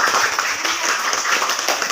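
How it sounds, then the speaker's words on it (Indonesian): Students in a classroom clap together, a brisk, busy patter of many hands that stays fairly even and close throughout. "Tepuk tangan buat kita"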